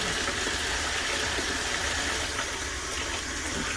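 Tap water runs steadily into a bin being filled to wash a bulk lot of LEGO bricks, a continuous close rushing splash with no talk over it.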